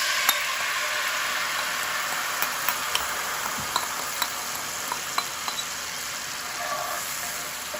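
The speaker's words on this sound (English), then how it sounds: "This will start to sizzle." Sauce for Korean glass noodles sizzles in a hot pan, a steady crackling hiss with scattered pops and occasional stirring clicks, close and continuous, with no talking.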